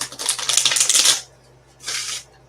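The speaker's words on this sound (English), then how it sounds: "just going to give it a quick couple shuffles" A deck of tarot cards shuffled twice by hand, a dense rapid riffling burst lasting about a second followed by a shorter second riffle, close and clear with no speech.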